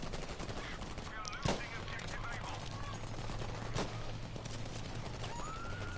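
Gunfire in a PS4 shooter, scattered sharp shots cracking over a steady din of game noise and low hum, with faint talk beneath.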